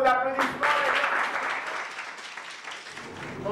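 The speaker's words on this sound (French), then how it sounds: "F2, sous vos applaudissements." Audience applause at a French-language eloquence competition, loud clapping that starts sharply and fades toward the end, with a voice briefly audible at the start.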